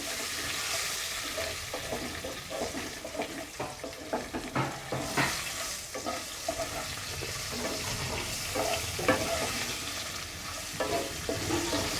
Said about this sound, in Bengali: এবার এটাকে একটু ভাজবো আমি